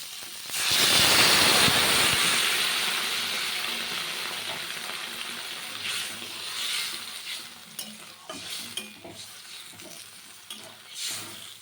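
A loud hiss and sizzle bursts as water hits frying winter vegetables in a hot pan for hilsa fish curry, then settles into a softer bubbling simmer with occasional stirring clatter.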